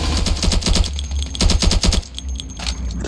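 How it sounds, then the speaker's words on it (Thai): Rapid automatic gunfire from a Ravenfield battle on a Pale Shelf map, loud and close, with dense bursts of machine-gun fire that ease off briefly near the end. "ยิงยิงยิง"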